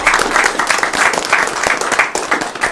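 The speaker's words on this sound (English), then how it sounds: "let's give Erin a round of applause" Steady applause from a gathered crowd at a small gallery show, dense clapping holding at an even level throughout with no voices over it.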